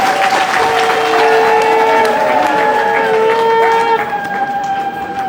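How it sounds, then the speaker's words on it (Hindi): Loud audience applause at a devotional stage event in Navadvip, dense steady clapping filling the whole stretch with a sustained tonal drone running underneath, the clapping thinning slightly near the end. "जोरदार ताली एक बार प्लीज।"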